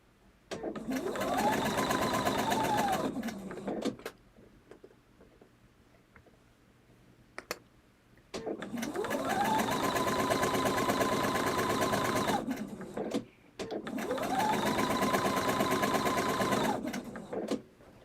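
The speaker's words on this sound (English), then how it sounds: "Is my sewing machine very loud?" Close, loud sewing machine whirring in three long runs that speed up and wind down, separated by quiet gaps.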